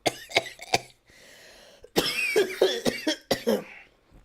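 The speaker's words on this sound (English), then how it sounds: "hold on, I have to cough" Several sharp, harsh coughs from one person close to the mic, in two bursts separated by a short pause with faint background hum, no talking.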